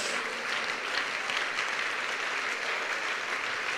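A church congregation in a Spanish-language service applauds at length, a thick, even roar of many clapping hands that stays steady throughout without voices standing out.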